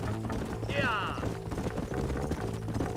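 Horse hooves clip-clop in a Red Dead Redemption western game, a faint trotting rhythm beneath steady game music and background noise, with a brief rising whistle-like sound partway through.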